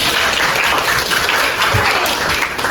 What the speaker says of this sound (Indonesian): Oke, terima kasih, berikan aplaus.